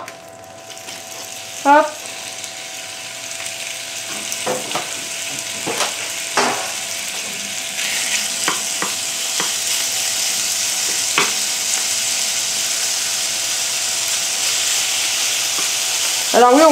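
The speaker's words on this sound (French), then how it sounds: "le but c'est de saisir le poulet, c'est-à-dire qu'il se fasse une petite croûte dorée" Chicken searing in a hot frying pan for a golden crust, a steady broadband sizzle throughout with a few clinks and stirring knocks, and brief talk over it near the start and end.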